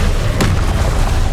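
A Confringo spell explosion in the Hogwarts Legacy video game bursts as one loud, close boom with a sharp crack, set against dense, heavy rumbling combat noise, and no talk.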